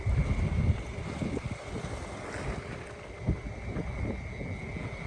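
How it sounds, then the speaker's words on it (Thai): Stormy wind gusts roaring across an outdoor microphone in rural Thailand as weather rolls in at dusk, a steady low rumble with a louder burst at the start and a few sharp buffets, no talking. "ฟ้าลมมาแล้วว่ะ"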